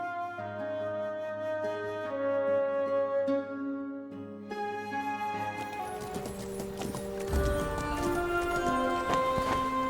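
Horses clip-clop along at a steady trot in the video game Masquerada, rhythmic hoofbeats running beneath sustained orchestral music that swells louder toward the end.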